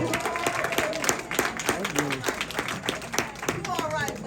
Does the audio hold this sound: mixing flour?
no